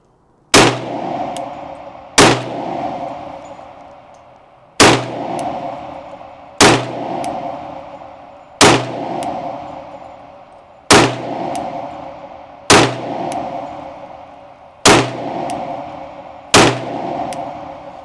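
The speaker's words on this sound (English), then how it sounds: "Now we're going to shoot our FN 510." An FN 510 Tactical 10mm pistol fires ten loud, evenly spaced shots about two seconds apart, each a sharp crack followed by a ringing decay.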